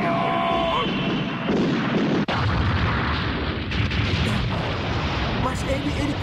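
Shotgun attack blasts in an animated battle boom loudly and repeatedly, with dense, rumbling explosive bursts and a sharp crack partway through, while a voice shouts over the din.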